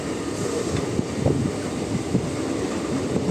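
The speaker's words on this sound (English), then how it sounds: "Because it is a first run, it is moving very slow this train actually." An MMTS commuter train on its inaugural run rolls slowly along the track, a steady rumble of wheels and carriage with faint rhythmic clacks at close range and no voices.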